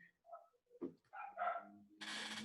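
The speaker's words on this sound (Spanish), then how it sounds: "Escuchan unos perros." Neighbours' dogs barking nearby in short, separate barks and yips, a few quick bursts then a sharper final bark, fairly faint with no talk over them.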